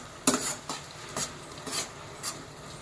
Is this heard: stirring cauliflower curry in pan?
yes